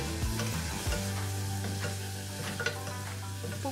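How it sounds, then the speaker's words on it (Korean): Chopped kimchi stir-frying in a pan for kimchi ramyeon, a steady close sizzle with scraping stirs and clatter, under a bed of background music with no talk. "그다음에 김치를 넣고 볶아."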